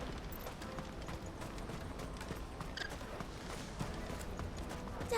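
Horse hooves clip-clop steadily in Final Fantasy XVI, a continuous even patter of mid-level steps in the game's stable setting, with no talk over it.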